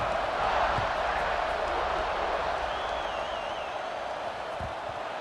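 A stadium crowd in the video game College Football 26 buzzes continuously after a score, a dense, steady roar filling the background without clear peaks.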